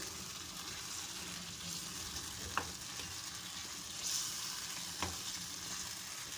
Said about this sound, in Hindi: इसके अंदर हमने आलू जो है वो हमने हल्दी और नमक डाल के बॉईल किए, वो शामिल करेंगे। इसको हिलाएंगे 2 से 3 मिनट